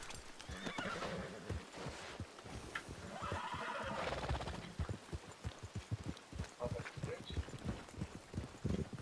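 A horse whinnies loudly while its hooves clip-clop in a steady rhythm, the neigh rising in the middle and the hoofbeats continuing close by throughout.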